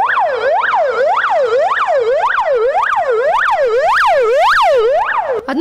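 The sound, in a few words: ambulances arriving with sirens at emergency drill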